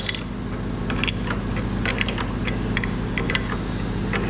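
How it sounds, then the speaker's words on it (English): Continuous low machine hum with scattered small metallic clicks and ticks as a fitting on an oil extraction machine is tightened with a 34 spanner, close and steady throughout. "After connecting, we will be giving this spanner, 34 number spanner. By using this we need to tighten this."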